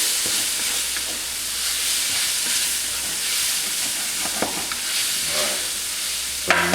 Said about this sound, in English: we're going to mix that up. Let that cook for just a bit.